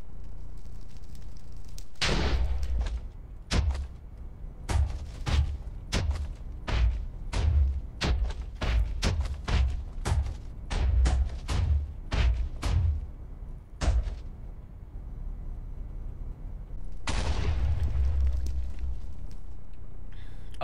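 Healing crystals being broken in Minecraft, a rapid run of heavy booming explosions fired one after another, loud and close, bracketed by sustained rumbling blasts at the start and end.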